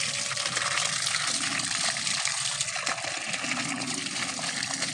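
Water poured onto flowering plants, a steady loud gushing splash running continuously and close up, with no talking.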